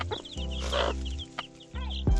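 A hen named Candy clucks busily to her chicks on a farm, her close, repeated calls layered over a steady low background hum, with higher chirps from the chicks.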